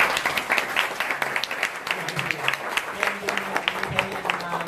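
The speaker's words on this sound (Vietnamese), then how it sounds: "anh chị để cho một tràng vỗ tay vào tuyến trên" Audience applause at a Q&A discussion session, a moderate round of clapping from a seated crowd, steady and fairly close, with faint voices mixed underneath.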